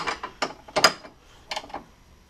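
A socket ratchet loosens the oil filter on a Fiat 500 Abarth, giving several short bursts of close mechanical clicking separated by brief pauses, with no talk.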